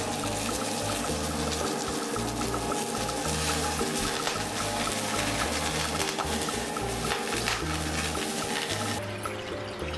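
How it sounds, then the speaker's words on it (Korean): One liter of water pours into a frying pan to start a broth for pork noodle soup. It makes a continuous gurgling, splashing stream that runs for about nine seconds and then tapers off near the end. "물 1리터를 넣고"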